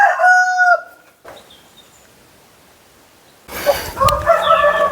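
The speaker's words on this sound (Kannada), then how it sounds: "ಊರಿನ ಕೋಳಿಗಳು ಅಲ್ಲಿ ಉಂಟು." A village rooster crows once loudly and close at the start, then after a near-silent pause another bird call or crow bursts in brightly, set in a quiet rural farmyard.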